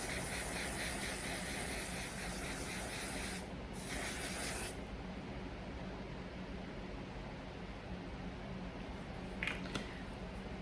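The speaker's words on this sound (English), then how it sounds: "Finishing off with One Size On Till Dawn Mattifying Waterproof Setting Spray." A mattifying waterproof setting spray mists steadily in a long, close, continuous hiss, briefly breaking around the middle before a fainter tail.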